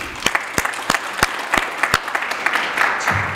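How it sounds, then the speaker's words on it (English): Applause from a conference audience at an education summit, a steady spread of clapping with a few sharper individual claps standing out, fairly close and alone. "So another round of applause."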